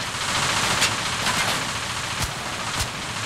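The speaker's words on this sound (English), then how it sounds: "Shooting through walls, that's no fair." Gunfire in the video game Payday 2 sounds as scattered sharp cracks over a dense hissing, rain-like background, several shots spaced irregularly at moderate distance.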